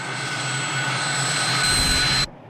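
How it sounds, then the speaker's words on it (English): A jet airliner's engine roars steadily with a high whine at an airport runway at night, growing louder toward the end before cutting off sharply. "We have an aircraft at the departure end of the runway."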